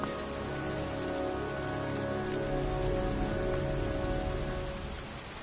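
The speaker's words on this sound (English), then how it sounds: "It's raining." Rain falls steadily in the video game Heavy Rain, an even, hissing patter of drops on surfaces with a low hum beneath and no voices.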